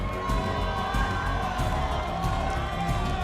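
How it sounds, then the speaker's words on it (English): Crowd at a Halo esports event, the HCS Kansas City Major, cheering and shouting with a sustained roar and scattered whoops filling the hall. "Sentinels fans start to make a little bit more noise as well"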